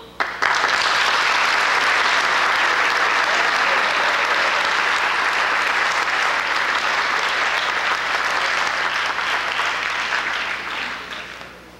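A large audience at a 1989 high school awards assembly in Clinton breaks into sustained applause, a dense, steady wash of many hands clapping at close range for about eleven seconds before tapering off at the end.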